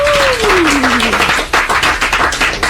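A studio audience claps for the band, a dense, continuous patter of many hands that grows more rhythmic toward the end, with a falling sustained tone fading out over the first second.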